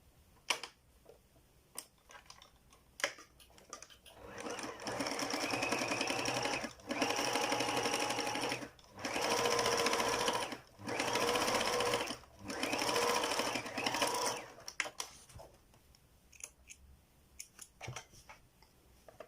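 A sewing machine runs straight and zigzag stitches on a fabric face mask in several sustained bursts separated by short pauses, with faint clicks and handling noises before and after.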